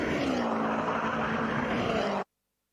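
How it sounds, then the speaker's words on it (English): A 600 bhp Subaru Impreza time attack car burbles past in a UK pit lane, a loud, steady engine roar that holds for about two seconds and then cuts off abruptly. "zooming down the pit lane with that well-known Subaru Burble"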